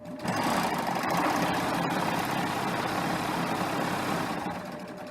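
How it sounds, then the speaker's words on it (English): A serger sewing machine stitches steadily across fabric during a basic exercise, running as a fast, even mechanical whir up close for several seconds with no talk over it. "So let me go ahead and stitch until my needles are at the line."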